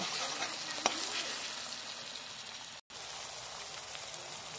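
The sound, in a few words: frying tomato with ginger garlic paste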